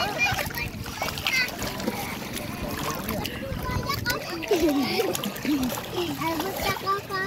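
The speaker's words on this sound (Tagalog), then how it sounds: "Sarap maglaro sa tubig" Water splashes repeatedly as children play in the sea at a beach resort, with excited kids' voices talking and shouting over the splashing throughout.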